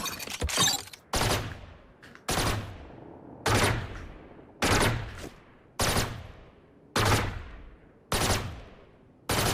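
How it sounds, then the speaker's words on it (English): Killjoy's turret in VALORANT fires repeated bursts, about eight sharp gunfire volleys spaced roughly a second apart, each loud and close with a quick decaying tail, no talk over them. "Let's see the turret. I want to see how fast it goes too."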